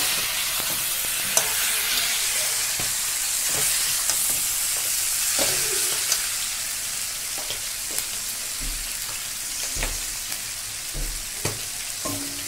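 Bhetki (barramundi) fish bones sizzle steadily in hot oil with potato, chilli powder and green chillies, while a spatula scrapes and taps the pan in scattered, fairly loud knocks throughout.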